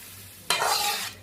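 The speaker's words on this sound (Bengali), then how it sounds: "এখন এটাকে আমি 10-15 মিনিট নাড়াবো" Homemade tomato sauce being stirred in a hot wok, with a sudden close sizzle and scraping swirl that starts partway through and holds steady for about half a second before fading.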